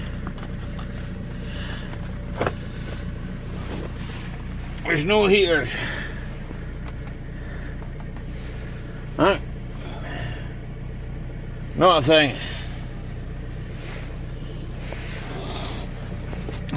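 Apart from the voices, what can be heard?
Audi A4 B6 TDI diesel engine idling after cold start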